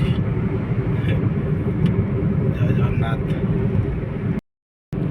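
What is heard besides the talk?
car driving along a road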